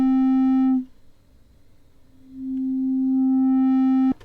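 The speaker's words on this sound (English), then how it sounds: "Watch it quickly get into a sine wave." Behringer MS-101 synthesizer tone filtered down to a pure sine wave: a steady sustained low note that drops out briefly, then swells back and holds loud and alone before cutting off.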